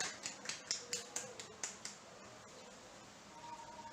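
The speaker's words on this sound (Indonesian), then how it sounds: "Tepuk tangan untuk kalian semua." Clapping for students in a classroom lesson: about a dozen sharp, evenly spaced claps in a quick rhythm, fairly close but quiet, fading out after two seconds into low room noise.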